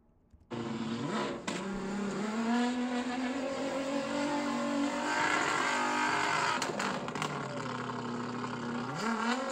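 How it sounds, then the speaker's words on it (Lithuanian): A car stuck in sand on a desert expedition in Saudi Arabia revs hard and steadily for several seconds, the engine rising and falling in pitch, loud and close, with no talk. "Tuoj čia duos gazą."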